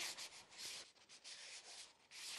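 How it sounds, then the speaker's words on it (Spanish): Steady rasping strokes of sandpaper rubbing over cut marquetry wood pieces, a rough hiss repeating in quick back-and-forth passes with brief pauses, close up and alone. "Las piezas recortadas y terminadas se les pasa un poco la lija"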